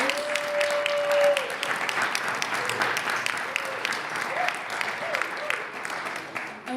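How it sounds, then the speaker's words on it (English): A conference audience applauds panelists after a community-building discussion, steady clapping from a sizable crowd through the whole stretch, with a voice sounding briefly near the start. "Can we give them a round of applause for your insights?"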